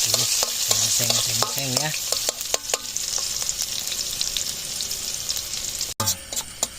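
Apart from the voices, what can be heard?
cooking, stir-frying food in a pan at night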